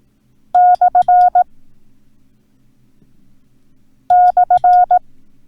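A Morse code tone sends the slash character twice, each a crisp, loud burst of beeping dits and dahs, separated by a few seconds of quiet background hum.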